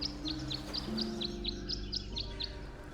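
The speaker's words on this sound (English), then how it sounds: "you remember these birds from the beginning of the game that were humming a little tune?" Birds in the Detective Grimoire video game hum a short tune as a series of about eleven evenly spaced, high chirping notes over a steady low musical background.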